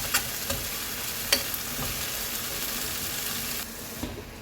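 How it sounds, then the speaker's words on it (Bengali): Spice masala of tomato with turmeric, chili and coriander powders fries in oil for a mushroom curry: a steady close sizzle with a few scraping stirs, no voices. "এক দু মিনিট মশলাটা ভালো করে ভেজে নেব, যতক্ষণ না ওর থেকে তেল বেরোয়।"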